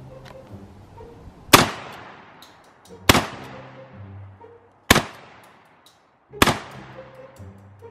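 Four loud, sharp gunshots fired outdoors at roughly even intervals of about one and a half seconds, each with a ringing decay, from a gun being test-fired on a range.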